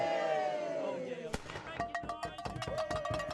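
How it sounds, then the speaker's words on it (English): At an orchard wassail, a sustained tone gives way to a sharp bang, then a rapid string of crackling pops and bangs. "shouting, banging and guns scare the evil spirits away"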